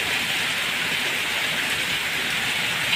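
Heavy monsoon rain pouring down in a Punjabi village, a dense, steady roar of falling water that holds constant throughout, loud and close with no talk.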